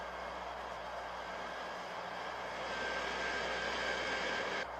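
Jet engines of a B-52 bomber in flight, a continuous distant roar with a faint steady whine, holding even and slightly swelling before cutting off near the end.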